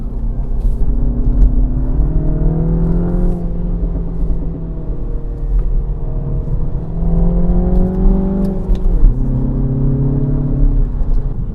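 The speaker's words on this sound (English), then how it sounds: "the exhaust does pop and bang as standard" A petrol car engine revs up and down through gears at close range, a loud whirring rumble with rising and falling pitch sweeps; the exhaust's pops and bangs are not clearly picked out, and no one talks.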